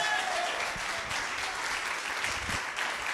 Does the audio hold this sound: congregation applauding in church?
yes